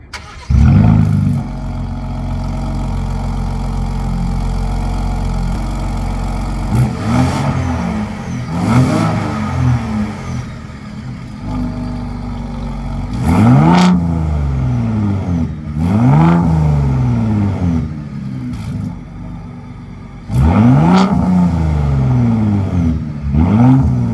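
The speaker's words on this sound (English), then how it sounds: "Now, this has active exhaust, which is really cool. And I've already tested it out, and it sounds pretty good. Here is what it sounds like." A 2021 Ford Raptor with active exhaust idles with a deep rumble, then is revved several times in sharp, loud bursts that rise and fall, close by with no talking.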